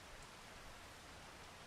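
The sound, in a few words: rain in video game Farming Simulator 25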